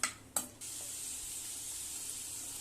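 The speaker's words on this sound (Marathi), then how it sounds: "मी आता इथे दुसरी कढई घेऊन त्यात ते तेल टाकले आणि हे आता बटाटे त्याच्यात मी परतून घेईन" Potatoes frying in oil in a second wok, a soft continuous sizzle with two brief clattering stir sounds at the start, then a steady faint hiss.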